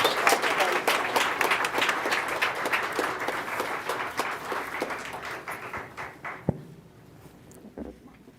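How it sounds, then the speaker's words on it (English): Audience applause at a school governing board meeting for the outgoing board president, a dense roomful of clapping that holds steady for about six seconds, then thins out to a few scattered claps. "let's give a big round of applause to Senator Alston, who's been an incredible leader as a board president"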